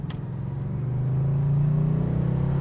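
A 1983 Oldsmobile Cutlass Calais Hurst with Lightning Rod shifters runs on the road, its engine a steady low drone that swells slightly as it pulls, heard from inside the car.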